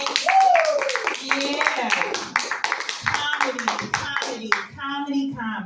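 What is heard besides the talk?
audience clapping hands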